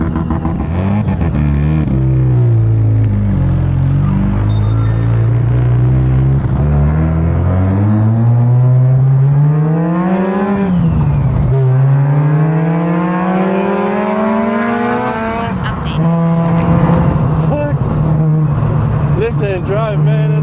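A Mazda RX3 wagon is driven and revved, its engine climbing and dropping through several loud, close rising sweeps across gear changes, with a person talking intermittently over it.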